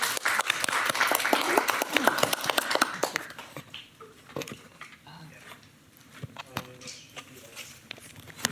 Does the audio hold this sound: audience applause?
yes